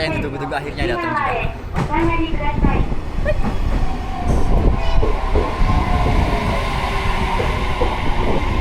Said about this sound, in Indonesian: Kereta yang ditunggu-tunggu akhirnya datang juga.